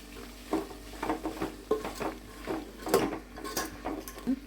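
Vegetables for a Vel Amavasya bhajji from Latur and Marathwada sauté in oil in a pan, with a steady run of close scraping and stirring strokes and a soft sizzle underneath, and no talking.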